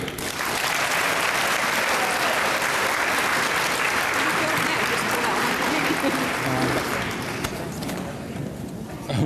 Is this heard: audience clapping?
yes